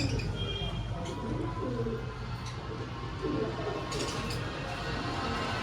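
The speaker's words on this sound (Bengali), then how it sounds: "আজকে আপনাদের জন্য নিয়ে এসেছি একটি অফারের পায়রা" Pigeons in a shop, including young birds, coo in low, murmuring bursts that carry steadily through a busy, noisy room, with faint chirps mixed in.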